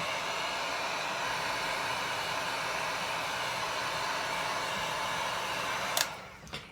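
A heat gun blows steadily over an epoxy galaxy tumbler, a continuous broadband airy roar that holds loud and even for about six seconds before cutting off, followed by brief small knocks.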